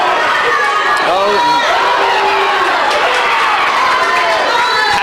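Fans in the crowd at a boxing event, a constant wash of cheering, shouting and chatter with a few rising yells, loud and close, with speech mixed in.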